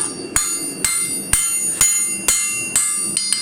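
A hammer forges a square-section steel wedge on an anvil, about eight sharp ringing metallic strikes at a steady pace, each decaying briefly before the next. The last blows land closer together, loud and near, with no voices.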